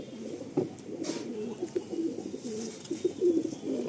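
A pigeon coos in soft, repeated low rolling calls, close by and continuous, with faint background ambience.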